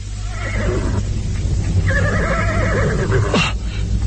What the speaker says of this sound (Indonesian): tiba-tiba terdengar ringkik kudanya